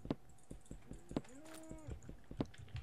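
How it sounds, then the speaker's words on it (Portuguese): A cow in Minecraft moos briefly with a rising, drawn-out call amid rhythmic clopping footsteps and light tapping, all fairly faint. "Onde tá escutando vaca aqui, cara?"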